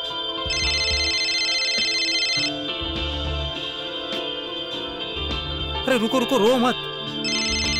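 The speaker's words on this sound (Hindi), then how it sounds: "अभी रुको, फोन बज रहा है।" A mobile phone ringtone plays in repeating melodic bursts with pauses between them, while a voice speaks over part of it in a tense indoor scene.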